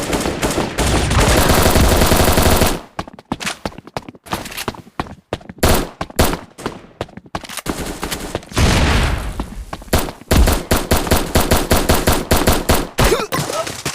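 Rapid automatic fire from a SIG MP5 submachine gun in the mobile shooter Bullet Angle, loud and close, with a long sustained burst, then choppy broken bursts, then dense repeated shots to the end.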